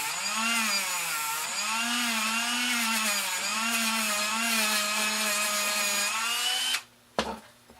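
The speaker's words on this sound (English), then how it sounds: "just take the wire wheel and brush off the silicone coating" A wire wheel on a Dremel rotary tool brushes a silicone coating off a sign panel, giving a loud, steady high-pitched whine whose pitch wavers up and down with the load for several seconds before it abruptly stops.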